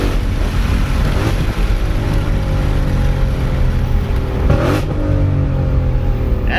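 A 2020 Ford Shelby GT500 with a ported supercharger, upgraded pulley and dyno tune, fitted with a dual-clutch gearbox, accelerating hard from a rolling start. The engine climbs in loud rising sweeps, each broken by the sharp crackle of a spark-cut shift, heard from inside the car.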